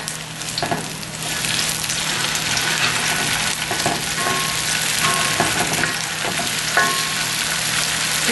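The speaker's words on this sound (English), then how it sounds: "let's start to turn over the tofu slices" Tofu slices sizzle steadily in a hot pan while being flipped over, with a few soft clicks and scrapes of the turning utensil over the continuous close frying hiss.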